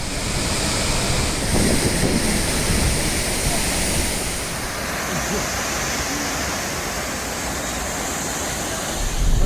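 Athirappilly waterfall in the Vazhachal forest pours over rocks in a loud, unbroken roar, steady and close, like heavy surf.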